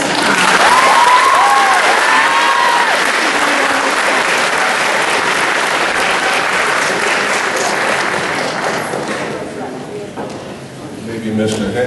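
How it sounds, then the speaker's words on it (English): A seated audience gives a sustained round of applause for a man being introduced at a presentation, dense steady clapping that slowly thins and fades toward the end, with a few voices mixed in. "Round of applause for Mr. Tom."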